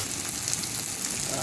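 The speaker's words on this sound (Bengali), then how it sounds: "মশলাটা কষাচ্ছি মাছের জন্য।" Tomato, green chilli and ginger spice paste frying for a fish curry with cauliflower and potato, a steady close sizzle and hiss in the pan throughout, with no pauses.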